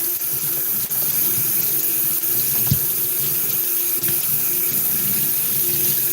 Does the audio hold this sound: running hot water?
yes